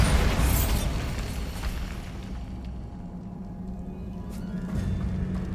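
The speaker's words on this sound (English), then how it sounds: "Bombarda." A spell explosion from Hogwarts Legacy goes off with a loud opening boom and burst, then decays into a low rumbling roar that swells slightly again toward the end, with no talking.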